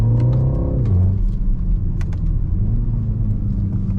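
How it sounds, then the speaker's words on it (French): A BMW X2 M35i with its 306 hp four-cylinder engine, heard from inside while driving on the road: a loud, steady engine rumble with a brief rising rev near the start, then a sustained drone, with no talking. "bien entendre le son du 4 cylindres qui est assez rock"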